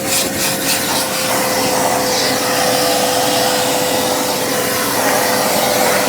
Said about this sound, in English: watching some bloke hoover out an Impian